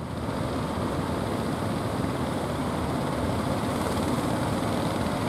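A boat engine runs at sea off Puger as a steady, loud, broadband drone and rumble that continues unbroken, with no talk.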